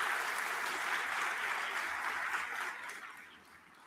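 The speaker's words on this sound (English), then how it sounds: "I just want to give him a clap for that." Steady applause from an audience at an Alaska sustainable energy conference, a dense, continuous clatter of clapping that holds for several seconds and then begins to thin and fade near the end.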